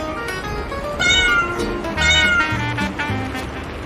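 A small rescued Persian kitten, hungry and trembling, meows repeatedly in a series of clear, fairly close cries with short gaps between them, heard alone without any talk.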